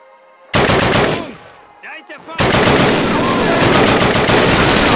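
Loud, close gunfire in the World War II shooter Call of Duty (2003), night British campaign mission, with sustained rapid bursts, a short lull, then continuous automatic fire under shouted voices.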